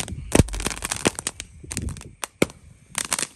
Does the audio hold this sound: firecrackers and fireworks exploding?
yes